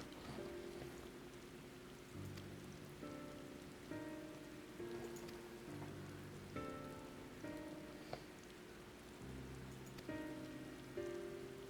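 Rain falling in the video game Final Fantasy XIV: Endwalker, a soft steady patter on surfaces beneath calm game music with sustained tones, quiet and continuous with no talk.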